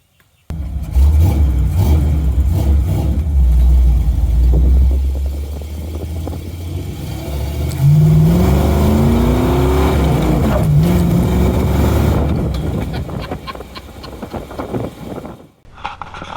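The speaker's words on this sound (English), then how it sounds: "this is a handmade yard cart, go-kart" A handmade backyard go-kart engine roars close by, running steadily then revving hard with rising pitch, loud and alone without talk.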